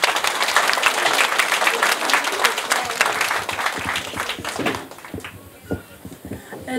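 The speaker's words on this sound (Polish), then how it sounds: "Proszę o brawa." An audience claps steadily at an outdoor village harvest festival (dożynki) in Korczowa, with dense applause that thins into scattered claps and some background voices toward the end.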